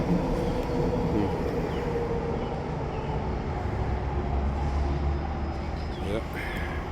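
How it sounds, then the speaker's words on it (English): An old Vancouver SkyTrain Mark I train arrives at 22nd Street station with a steady rumbling roar and a faint squeal, while a person talks over it. "I'll get the SkyTrain here. The old Mark 1s coming in."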